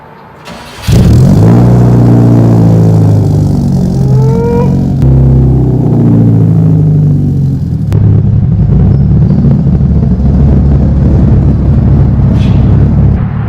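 A Subaru WRX fitted with an Invidia N1 turbo exhaust cranks and fires up loudly, then barks through a few sharp revs before dropping into a deep, rumbling idle, close and alone without talk.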